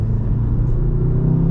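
A pre-OPF 2-litre 4-cylinder VW Golf R engine burbles steadily at low revs, a deep, close, continuous rumble with no pauses or talk over it.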